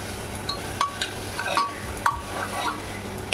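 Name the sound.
stir-frying mutton in a pot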